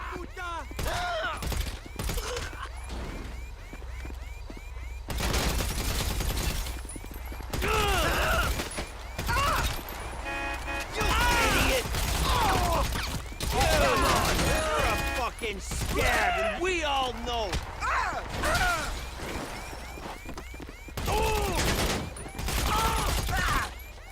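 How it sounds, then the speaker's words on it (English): AP pistol fire in a GTA 5 Online gunfight, repeated bursts of rapid shots with mechanical clatter and crashes, under someone talking throughout. "Let's get my AP pistol."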